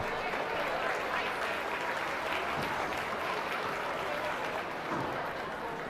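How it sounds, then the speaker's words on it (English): Audience applause at a youth livestock swine show, steady dense clapping from a crowd throughout, fairly even in loudness with no talk over it. "Let's go ahead and give these young people another round of applause."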